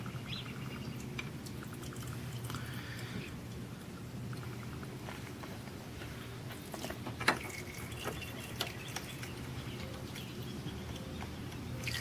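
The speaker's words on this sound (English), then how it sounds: "As you can see, there's already some oil draining." Engine oil draining from a Yamaha Warrior ATV during an oil change, heard as a steady, fairly quiet spattering trickle with a few sharper drips scattered through, continuous with no speech.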